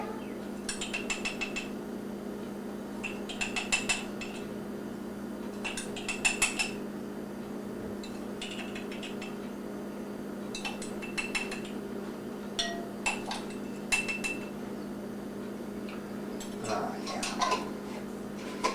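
Metal tablespoon clinking and scraping in an open coffee pot as eight level spoonfuls of coffee grounds are scooped for a 3-cup pot, several short bright clinks in clusters over a low steady hum, with no talking.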